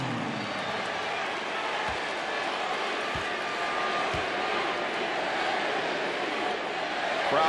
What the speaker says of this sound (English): Crowd chanting MVP.